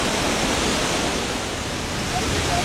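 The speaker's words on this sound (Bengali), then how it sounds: "ওইটা পুরো প্লেটু টাইপের একটা ফ্ল্যাট সারফেস থেকে জলটা এখানে এসে আছড়ে পড়ছে" Water from Krangsuri Falls in Meghalaya's Jayantia Hills crashes from a flat plateau edge into a pool below, a dense, steady roar of broadband rushing water heard close and loud without pause.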